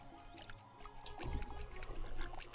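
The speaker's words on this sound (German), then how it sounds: "Immer schön gießen." Plants get watered in the farming game Summer in Mara, a soft, steady pouring trickle of water that swells slightly midway, heard faintly over quiet background sound.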